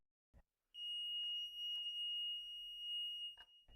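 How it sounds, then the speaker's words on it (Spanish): A simple light-sensitive alarm circuit with a buzzer in place of its LED sounds a steady, high-pitched electronic tone that holds for about three seconds. Faint clicks come before it and one sharp tap near its end. "Si reemplazas el LED con un zumbador, hemos creado una alarma simple y sensible a la luz."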